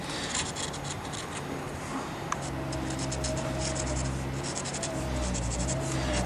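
Felt-tip Miller Scratch Fix Pen rubbing colour into a large split in wooden furniture, a steady close scratchy rasp with repeated short strokes, no voices.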